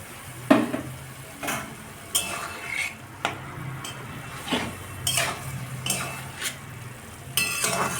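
Pumpkin-stem greens curry with ground black mustard paste is stirred in a pan: a spoon scrapes in repeated strokes about once a second over a low, steady sizzle, with no talking.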